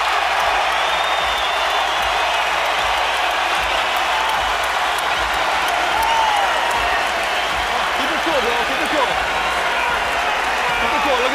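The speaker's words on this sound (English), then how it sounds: "And for the second round in a row, Crawford brings the crowd out of their seats." An arena crowd in Omaha at a Terence Crawford vs Raymundo Beltran boxing match roars and applauds in a dense, sustained wall of cheering that stays loud throughout, with voices mixed into the din.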